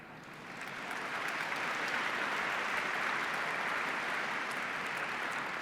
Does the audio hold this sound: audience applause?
yes